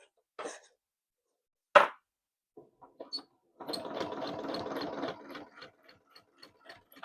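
A sewing machine doing free motion quilting runs in short bursts: a few brief stitches, one sharp knock, then a longer run of fast stitching before tapering into scattered single stitches, fairly quiet and close with no talk.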